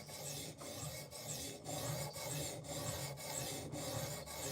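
Knife blade drawn steadily across a 600 grit PDT sharpening stone, a continuous close rasping scrape broken by brief pauses in a regular back-and-forth rhythm of about one stroke per second.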